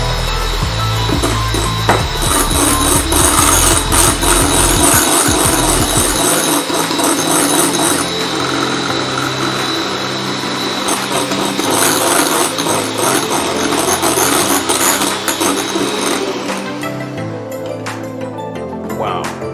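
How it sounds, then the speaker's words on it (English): Whisking icing sugar into a vegan cream mixture by machine, a steady loud motor whir running throughout with a dense rattling texture that settles after a few seconds. "So I'm going to add and whisk in at the same time."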